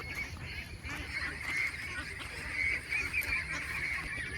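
Ducks quack while eating, with repeated nasal, honking calls overlapping in quick bursts at moderate distance over faint background noise.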